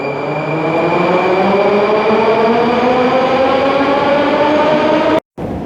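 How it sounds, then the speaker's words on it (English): A Moscow subway train rolls loudly and steadily, a droning whine rising in pitch over the rumble, with a brief cutout near the end. "Have you ever seen such a wonderful subway cars somewhere in the world?"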